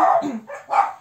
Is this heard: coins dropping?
no